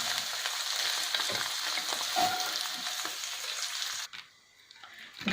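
Paneer cubes shallow fry in a pan of oil for kadai paneer, a close, steady sizzling hiss that cuts off abruptly near the end, leaving near silence.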